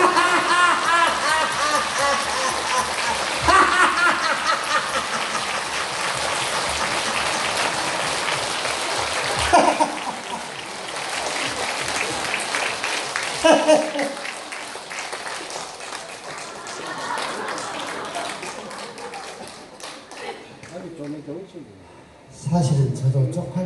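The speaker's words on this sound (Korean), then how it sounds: "우리 웃으면서 박수 한번 쳐볼까요?" An audience at a laughter lecture in Andong City Hall claps while laughing: a long, dense wash of applause mixed with laughter and shouting, fading in waves, then a final burst at the end.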